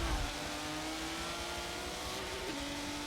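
Race car engine in Forza Motorsport 7 holds a steady high drone, with a slight pitch shift near the end as the car trail brakes up a hill and powers through a corner. No talking.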